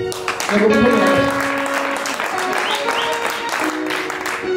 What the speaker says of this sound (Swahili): Good, pigie makofi.